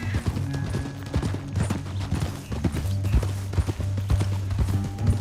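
Rapid hoofbeats of horses riding through a canyon in Red Dead Redemption 2, a steady close clip-clop over low game music, without speech.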